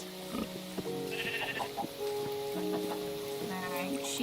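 Sheep bleating in a farming video game, a few short faint bleats over a soft melodic soundtrack and steady rain-like background.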